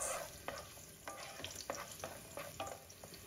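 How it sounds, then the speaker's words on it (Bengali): Chopped garlic stirred and fried in hot cooking oil for a prawn and taro-stem dish, with a steady soft sizzle broken by regular scraping stirs, close and fairly quiet, with no talking. "তেলটা গরম হয়ে গেলে এর মধ্যে কেটে রাখা রসুন দিয়ে দিলাম। নেড়েচেড়ে ফ্রাই করছি 2 মিনিটস।"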